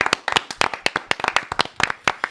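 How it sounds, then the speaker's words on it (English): Sparse, uneven clapping from a small audience, sharp individual claps close by in an irregular patter lasting a couple of seconds. "Can we get a little clap?"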